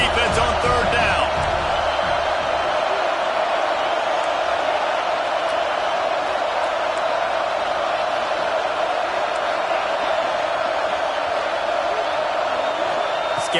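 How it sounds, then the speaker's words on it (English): A stadium crowd in a college football video game roars steadily and loudly on third down, a dense wall of cheering that holds for the whole stretch. "Decibels rising as the crowd gets behind this defense on third down."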